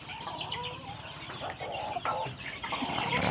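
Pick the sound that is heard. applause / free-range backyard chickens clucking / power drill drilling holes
free-range backyard chickens clucking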